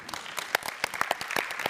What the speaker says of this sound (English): give you a warm round of applause